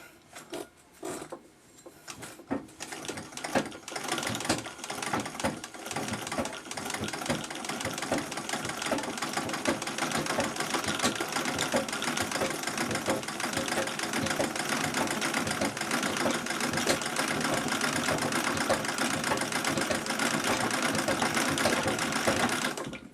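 Singer 66 sewing machine winding thread onto a bobbin: a few start-up clicks, then a steady, fast mechanical whir that holds close and loud for about twenty seconds.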